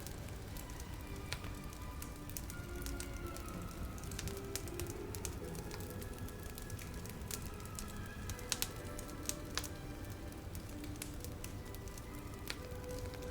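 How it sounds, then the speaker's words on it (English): A quiet fire hums softly, with scattered small crackles and pops across a low, steady background. "watching and listening to the fire hum and crackle away."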